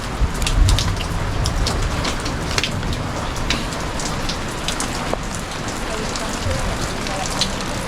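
Steady rain pattering on a surface, with scattered sharper drops landing close by, continuous and fairly loud throughout.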